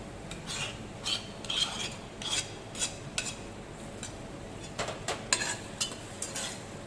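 A spoon stirs curd into poppy seed paste in a pan, making repeated scraping, rubbing strokes in an uneven rhythm, close and moderately loud with no voices.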